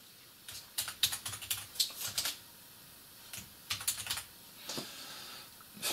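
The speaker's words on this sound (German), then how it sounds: "dann schreibt ihr einfach mal eure Postadresse rein" Typing on a computer keyboard to enter a postal address, with bursts of close, crisp key clicks in uneven runs separated by short pauses, and no talking.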